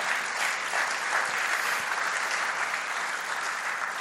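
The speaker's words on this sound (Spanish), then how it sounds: "Dale un fuerte aplauso a Dios." Steady, dense applause from a church congregation praising God during a Spanish-language sermon, sustained and even throughout with no voices over it.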